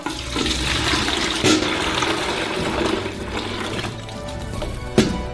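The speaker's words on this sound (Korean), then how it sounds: "양동이로 부어주세요" Fresh carrot juice poured from a container into a bucket, a steady close splashing gush of liquid with a couple of brief knocks.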